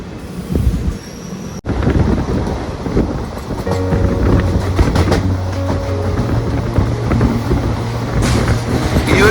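A passenger train at a small halt station near Wadakancheri in Kerala rumbles close by with a steady low drone and gusts of wind across the microphone; a sharp click comes early on, and no one speaks.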